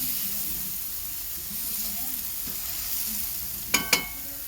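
A chicken smash burger patty sears on grill grates with a steady hiss and sizzle, then two sharp metallic clanks close together near the end.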